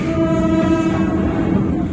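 A PT KAI Bima passenger train rolls past close by with a steady low rumble and a sustained tonal hum throughout, without pauses or voices.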